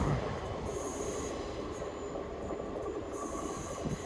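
A train rolls through Clapham Junction on the South West Main Line, a loud, steady rumble of wheels on rail with faint squealing, continuous and close throughout.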